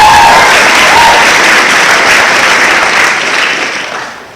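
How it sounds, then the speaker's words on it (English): Audience applause at a live comedy show: loud, dense clapping close by that holds steady, then slowly fades toward the end. "So let's give her a nice round of applause"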